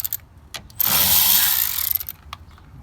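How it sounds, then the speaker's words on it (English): A ratchet wrench loosens the battery terminal on a 2010-17 Chevrolet Equinox or GMC Terrain, giving a few scattered clicks, then a sustained rapid ratcheting buzz, and a few more clicks, close up with no speech. "so you'll need the wrench to be able to loosen that up"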